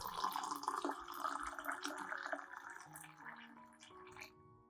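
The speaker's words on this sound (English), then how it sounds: "Then add about 500 milliliters of hot water." Hot water is poured into a glass holding finely chopped shallot, a quiet trickling and splashing whose pitch rises steadily as the glass fills, then stops.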